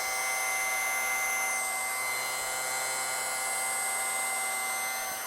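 Electric hair clippers hum steadily and close while tapering the hair around a man's ear, a continuous high whine with no pauses and no talking.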